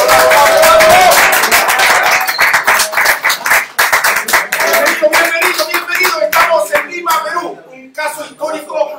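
A crowd in Peru applauds to celebrate SACITE, the national circus union, with loud, dense clapping that thins into scattered claps, with some voices mixed in.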